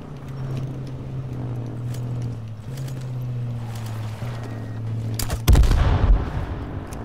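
Gunfire in the H1Z1 Battle Royale game hits as a couple of loud, close shots near the end, after a steady low hum and faint clicks.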